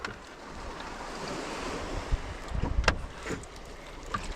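Wooden boat paddled along a rocky sea shoreline while checking crab traps, water sloshing and splashing against the hull amid waves and wind noise, with a few louder dips and knocks near the middle.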